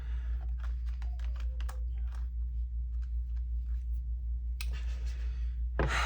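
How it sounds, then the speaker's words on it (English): A deck of tarot cards is shuffled up close with a rapid series of light, crisp card clicks, followed by two louder riffling bursts near the end over a low background hum, with no talking. "Look, I'm over here shuffling."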